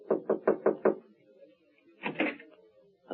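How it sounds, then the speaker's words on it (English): Five crisp, evenly spaced knocks strike a manager's office door in a cafe, followed after a pause by a second, duller burst of knocking, all close and alone in a quiet room. "and knocks."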